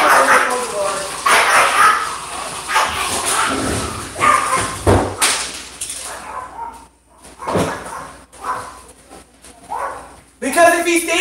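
A house dog barks in short bursts while a person talks over most of it, with a door or cupboard knocking nearby and a few quieter gaps between the barks.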